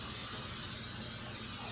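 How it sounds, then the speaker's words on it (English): Cooking spray hisses steadily into a cake pan for a coffee cake. A continuous close, even spray with no pauses and no voices. "now I'm gonna spray this"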